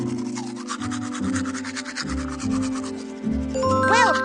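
Cartoon toothbrush scrubbing teeth in a Caillou children's game, heard as a quick run of bright scratchy brushing strokes over cheerful game music, ending with a rising sparkle chime.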